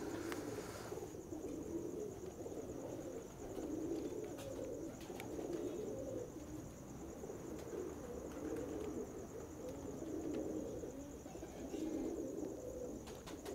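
Soft pigeons cooing in repeated low, rolling phrases against a faint steady background hum, fairly quiet and somewhat distant.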